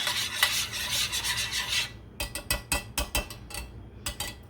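Seasoning for chicken fingers being mixed in a bowl, a steady scraping rasp that breaks into a run of short, separate stirring strokes, close and moderately loud with no voices.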